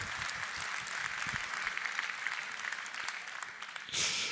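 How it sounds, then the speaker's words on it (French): A large hall audience of around 1200 people applauds the municipal youth council at a residents' meeting in Le Touquet, a dense sustained round of clapping that swells briefly louder near the end. "Et puis merci aux jeunes du conseil municipal des jeunes. On peut les applaudir."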